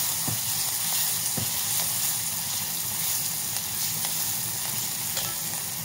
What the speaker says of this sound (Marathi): ही डाळ थोडीशी परतून घेऊया.